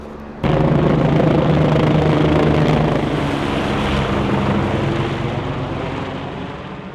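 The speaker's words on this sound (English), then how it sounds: "It turns out that actually was a rescue helicopter." A loud, steady engine roar with a rotor-like drone starts abruptly and holds, a rescue helicopter close by at Putangirua Pinnacles, New Zealand, fading slightly toward the end.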